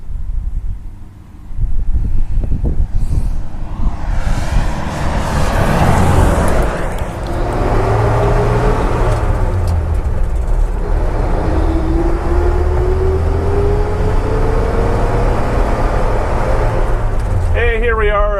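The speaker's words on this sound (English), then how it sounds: "this truck has been running the whole time, and when we were showing the front and the view, the thing runs like a little sewing machine" A 1953 Dodge pickup truck drives along with its engine running steadily, a low continuous hum under wind buffeting and road noise for most of the stretch, with a voice speaking over it.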